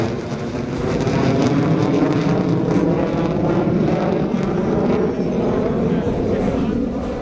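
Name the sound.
Sukhoi fighter jet aircraft roaring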